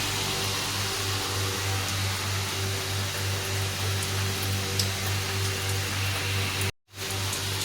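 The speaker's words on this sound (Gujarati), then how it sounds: "જો વરસાદ કેવો ચાલુ થઈ ગયો" Steady rain falls as a dense, even hiss over a low constant hum, with a short cut-out near the end and no talk.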